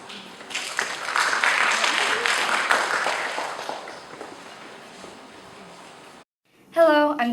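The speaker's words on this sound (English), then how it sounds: "Please give her a round of applause." An audience at a 2017 TEDx event at Branksome Hall Asia breaks into sustained applause that swells and gradually fades over about six seconds, followed by a short silence and then a young voice starting to speak.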